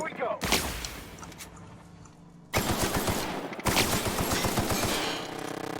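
Rapid bursts of automatic gunfire in the video game The Outer Worlds, loud crackling volleys starting, pausing, then returning in two dense stretches, with a voice faintly underneath.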